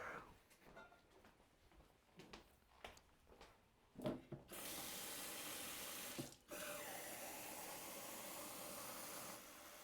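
Tap water running into a drinking glass, starting after a few brief clinks and handling sounds, then a steady close hiss of flowing water that briefly cuts out and resumes.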